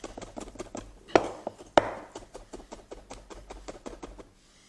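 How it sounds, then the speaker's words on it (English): Knife mincing a crushed garlic clove on a cutting board: a fast, steady run of close, crisp chopping taps, with two sharper louder strikes near the start, then easing off to quiet. "And that's minced garlic."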